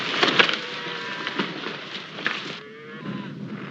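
Several cattle low and moo over a steady outdoor din, their drawn-out calls overlapping and rising and falling at moderate distance.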